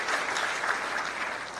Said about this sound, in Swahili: Tupigie Father na kanisa makofi tafadhali.